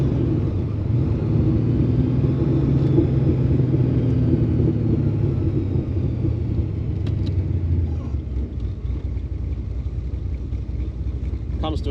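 A car with a 355 stroker V8 engine runs at a steady low rumble while driving, then settles as it slows to a stop, with some voice over the engine noise.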